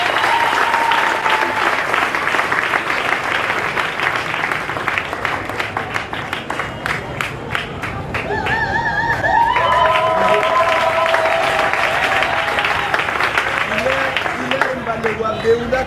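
Loud audience applause fills a radio station's opening ceremony in the Congo, sustained clapping throughout with voices and some tonal music or singing rising over it in the second half.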